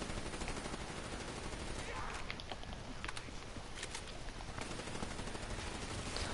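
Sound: gunfire at zombies in a PS4 video game

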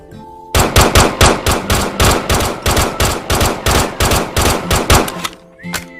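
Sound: gunfire from the Gun3D gun addon in a video game

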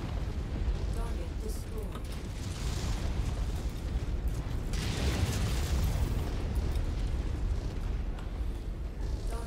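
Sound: mech exploding when destroyed, from video game MechWarrior 5

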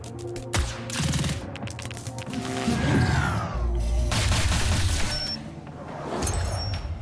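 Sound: tanks shooting in video game Reverse Collapse

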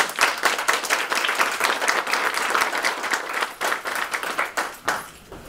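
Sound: audience applause for spelling bee students

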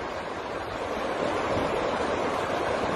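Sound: strong wind blowing by the water

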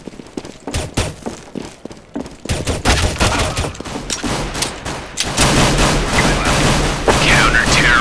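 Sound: gunfire in the video game Counter-Strike

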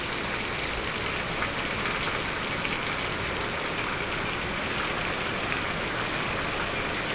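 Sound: heavy rain

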